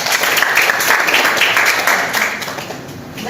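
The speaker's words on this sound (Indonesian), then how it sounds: "tepuk tangan lagi" Applause in a classroom, a dense burst of many hands clapping together, loud and sustained before tapering off slightly at the end, with faint voices mixed in.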